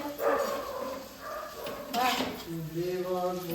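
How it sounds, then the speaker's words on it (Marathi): A dog barks a few times at home, close by, mixed with clinking dishes and overlapping talk. "कुत्रा भुकलेला आहे"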